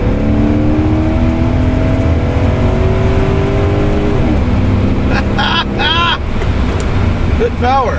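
A 370 WHP supercharged Porsche 928S with a four-speed automatic pulls hard in second gear, its loud engine drone climbing steadily in pitch, then dipping briefly before revving again, close and continuous.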